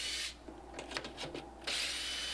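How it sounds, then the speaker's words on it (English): A drill bores shelf pin holes in plywood through a jig: a steady motor whir, then a brief pause with scraping and handling, then the whir returns. "Just drill the first hole, install the locating pin, and then follow it up by drilling holes in the other 5 locations."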